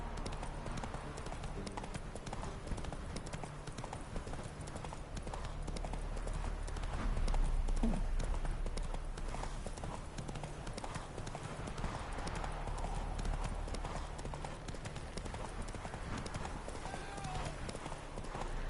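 Horse hooves trot in the video game The Witcher 3, a steady clip-clop rhythm that continues throughout over a dense game ambience, while someone talks at times.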